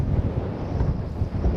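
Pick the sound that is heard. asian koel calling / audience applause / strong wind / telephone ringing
strong wind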